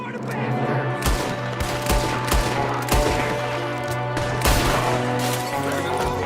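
Gunfire in the western game Red Dead Redemption: a rapid irregular series of sharp gunshots cracks out over a steady background hum, with several shots spaced about a second apart at close to mid distance.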